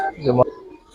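A single short giribaz pigeon coo, close and brief, followed by quiet.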